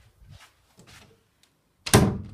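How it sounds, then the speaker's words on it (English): A room door with silver fittings is swung shut: faint handling sounds first, then a single loud, close thud as it closes. "Door closes fine with no concerns"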